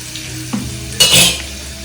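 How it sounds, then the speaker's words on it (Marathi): A sharp burst of sizzling erupts midway as garlic hits hot oil, hissing loudly for a moment before settling into a quieter fry. "तर लसूण पण मस्त फ्राय झालेला आहे"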